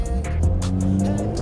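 A Mercedes-AMG CLA 45 four-cylinder engine pulls hard under acceleration, a loud, steady engine drone running throughout with brief bursts of exhaust crackle.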